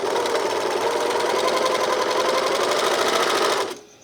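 A Janome 644D serger overlocker stitches and trims fabric with a steady, loud, fast mechanical whir that runs continuously before stopping abruptly near the end.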